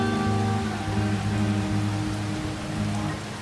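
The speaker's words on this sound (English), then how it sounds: "it's pouring rain like crazy" Heavy rain pours steadily in the Farming Simulator 25 video game, a dense, loud hiss of downpour running throughout with low tonal game sounds beneath it.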